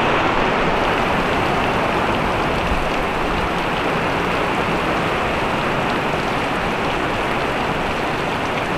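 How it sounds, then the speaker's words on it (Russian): Heavy rain pours steadily at a deserted beach in Anapa, a loud, continuous hiss that runs unbroken throughout with no voices. "Дождь усиливается, но здесь очень даже хорошо."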